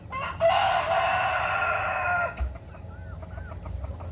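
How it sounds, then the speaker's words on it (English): A rooster crows once, loud and close, a long drawn-out call followed by quieter clucking in the background. "I have so many damn roosters."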